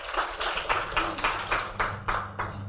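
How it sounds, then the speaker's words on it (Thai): An audience at a talk on dementia in the elderly claps in a thin, sparse round, with distinct individual claps falling in a rough rhythm over a low background hum. "ขอเสียงปรบมือด้วยครับ"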